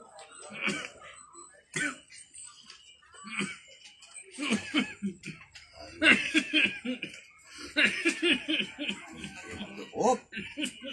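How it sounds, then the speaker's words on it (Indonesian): Several coughs and throat-clearing bursts, some close and forceful, scattered between soft voices and light laughter. "Op. Batuk nak."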